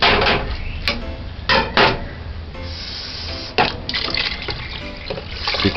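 Water poured into a cooking pot for red peas soup, a continuous splashing rush with a few clanks and bumps against the pot, near and alone.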